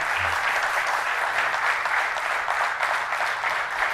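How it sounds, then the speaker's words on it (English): Steady round of applause from an audience at an entrepreneurship awards ceremony, dense and sustained clapping filling the hall throughout without talk. "So let's welcome him with a great round of applause."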